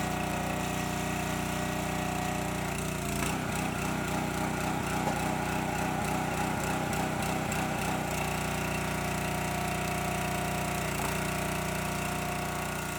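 A one-way log splitter's small engine runs loud and steady throughout, with a rougher pulsing stretch partway through before it settles back to an even drone.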